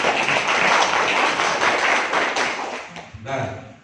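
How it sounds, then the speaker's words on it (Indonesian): Audience clapping at a youth organization (Karang Taruna) gathering in Pacet district, Indonesia, honoring a local official; dense, loud applause fills most of the moment, then fades as a voice begins speaking. "Tepuk tangan buat Pak Camat."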